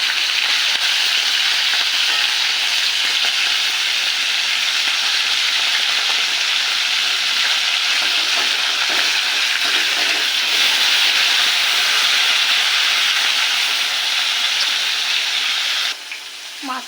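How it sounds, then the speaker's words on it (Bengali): Hilsa fish pieces fry steadily in hot oil for an aubergine and hilsa dish, making a loud, continuous, close sizzle that holds level for the whole stretch and dips only briefly at the very end, with no talking. "তেল গরম হয়ে গেছে, এবার মাছটাকে ছেড়ে দেবো। মাছটাকে হালকা ভেজে নেব।"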